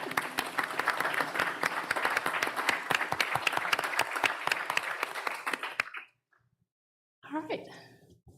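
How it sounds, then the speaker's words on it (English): An audience at a town board of aldermen meeting claps in a round of applause, dense and steady for about six seconds before stopping abruptly; after a brief silence a person speaks. "Let's just give her a round of applause."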